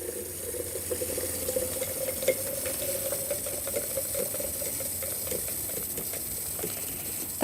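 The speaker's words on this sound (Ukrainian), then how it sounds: "Наливаємо водичку і ретельно перемішуємо." Water poured into a glass jar while mixing a garden spray solution, a steady trickling hiss with faint clinks of stirring running evenly throughout.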